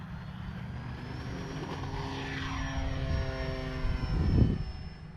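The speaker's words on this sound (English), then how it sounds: "This time we'll take off with no flaps." An Arrows RC Tecnam 2010 model airplane takes off without flaps, its electric propeller droning steadily and building toward a louder, closer pass at the end, with no talk.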